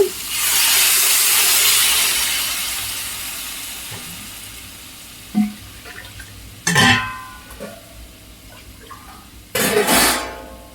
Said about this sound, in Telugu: అర లీటర్ వాటర్ పోస్తున్నానండి